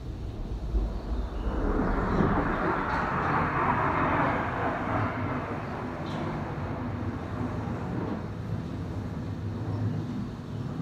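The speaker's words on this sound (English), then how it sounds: "did you listen to that marvelous sound of that plane?" A propeller or jet airplane roars overhead, a broad, loud, steady rumble that swells and holds for about eleven seconds with no speech over it, recorded outdoors at a public gathering in Saanen, Switzerland in 1968.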